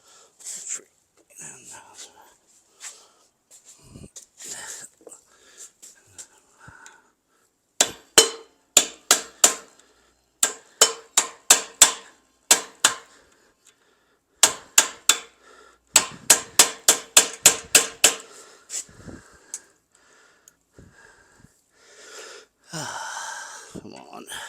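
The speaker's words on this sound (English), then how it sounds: "So now, get a punch and a hammer." A hammer strikes a punch on a 1985 Volkswagen Cabriolet in sharp metallic bursts of rapid repeated blows, with pauses between clusters, close and loud, with occasional quiet talk and breathing.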